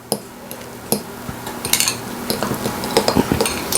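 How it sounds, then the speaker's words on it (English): A utensil stirs a grated ingredient mixture in a small bowl while preparing baked stuffed pork loin, making quick, busy scraping and clinking against the bowl at close range with no speech. "I'm just going to mix this together"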